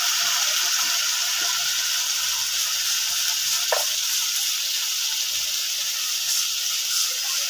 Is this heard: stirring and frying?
yes